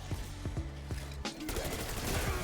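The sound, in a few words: Grekhova gun firing at mangler, Black Ops 6 Zombies video game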